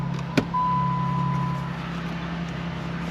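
A car hums along at steady speed heading into town, its engine a low continuous drone with a brief click near the start and a faint whine over it, no talking.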